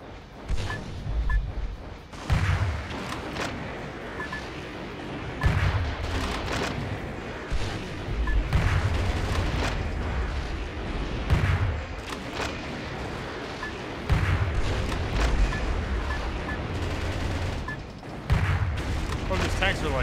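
Tanks fire heavy rounds at a mech in the video game Metal Wolf Chaos, with repeated loud booms and blasts thudding every couple of seconds over a dense battle din while a voice talks throughout.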